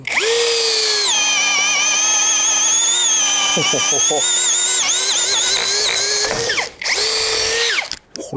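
An STR STR-712 impact drill with interchangeable heads drives a screw into wood, making a loud, continuous motor whine that shifts in pitch and dips briefly near the end, with a short voice in the background.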